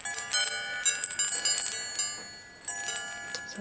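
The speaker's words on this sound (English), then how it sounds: "And this is actually a bell." A small decorative bell, part of a figurine of a Japanese lady, rings in a cluster of bright, shimmering metallic strikes close by, fades briefly, then rings again in a second burst.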